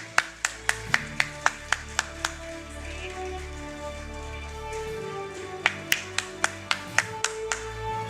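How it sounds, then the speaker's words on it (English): At an awards ceremony, an audience claps in bursts of sharp, distinct handclaps. The clapping breaks off briefly in the middle, then picks up again, ringing fairly close in a roomy hall. "Keep the round of applause going."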